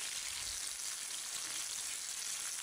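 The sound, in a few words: chana dal and urad dal frying on medium heat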